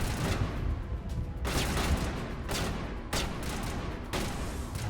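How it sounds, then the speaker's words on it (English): Heavy, sustained gunfire in the video game Mass Effect, a dense, loud wash of overlapping shots that swells in a few stronger bursts over about five seconds, with no voice over it. "What are y'all shooting at?"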